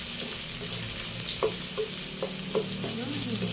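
Mixed vegetables and onion stir-fried in a pan, a constant sizzle broken by a handful of clinking spatula strokes at uneven intervals, close and moderate in level.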